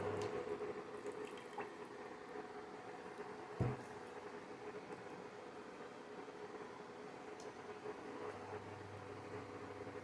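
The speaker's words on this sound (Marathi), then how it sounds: "आता आपल्याला किती घट्ट व किती पातळ यानुसार पाणी घालूया." Water is poured into a pot of Maharashtrian pea curry (watana amti), a soft, quiet running trickle over low kitchen background hum, with one brief knock partway through.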